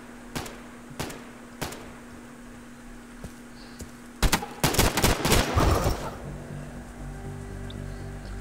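An M14 rifle fires in the video game Insurgency: a few sharp single shots spaced apart, then a rapid cluster of loud reports, over a steady background hum.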